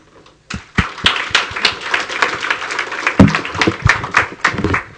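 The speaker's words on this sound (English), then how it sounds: "Please welcome him with a round of applause." An audience at the Rakuten Tech Conference 2012 breaks into applause to welcome a speaker: a sudden burst of dense, close clapping that holds steady for several seconds.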